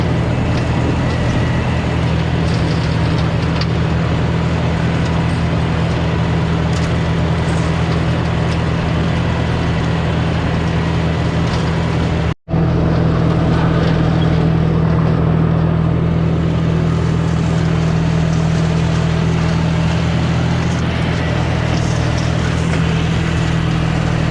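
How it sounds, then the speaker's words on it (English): Steady, loud engine drone of a tractor pulling a large E-12 flex mower across pasture, continuous for the whole stretch apart from one brief dropout midway, with no talking. "I got a pretty big mower here."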